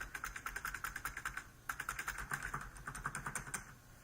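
Keys, spacebar among them, tapped repeatedly on a cheap wireless computer keyboard after cleaning and repair, giving a steady run of close, crisp clicks with a brief pause near the middle, no voices.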